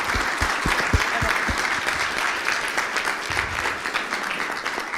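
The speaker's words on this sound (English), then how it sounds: "Big applause for Carla." Audience in a conference room applauds a speaker, a steady wash of clapping from a moderate crowd with a few louder nearby claps.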